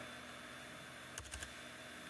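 A short burst of keystrokes on a computer keyboard as the history command is typed into a Linux terminal, a few quick faint clicks amid quiet room noise.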